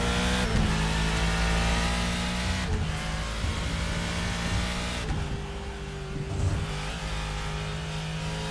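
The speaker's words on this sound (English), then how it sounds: "Love the noise of these old school race cars." Loud, roaring old-school race car engine running continuously at Portimão, with revs rising and dropping through gear changes, close by and steady throughout.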